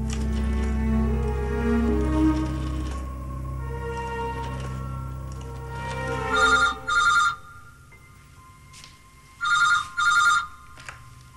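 A telephone rings in two separate double-burst bursts, loud and close, after a sustained musical passage fades out; no talking is heard.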